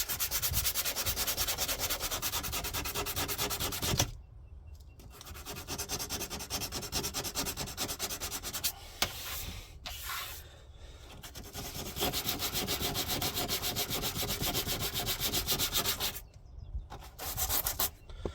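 Rust being rubbed and sanded off the bodywork of a VW Golf Mk4 GTI, a long steady abrasive scraping that pauses briefly a few times, close and continuous with no talk.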